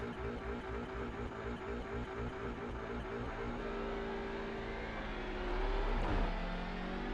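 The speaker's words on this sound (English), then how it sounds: "we're just pushing the handbrake in, clutch in, throttle up, first gear. We find where the engine red lines." Simulated Audi TCR race car engine in iRacing, held at a standing start with handbrake and clutch in, buzzing steadily at high revs and then climbing to a sharp peak near redline before easing back, with no talking.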